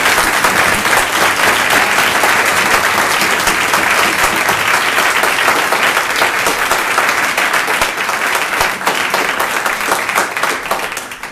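A large audience at the 2015 AMCA national championship semifinal applauds the result: dense, loud, sustained clapping fills the room without letting up for over ten seconds, fading only slightly near the end.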